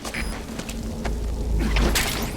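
A gunshot from a worn suppressor in the Metal Gear Solid V video game gives a muffled boom and thud, with a second sharp burst shortly after over low game ambience.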